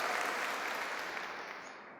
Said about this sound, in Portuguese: uma salva de palmas a você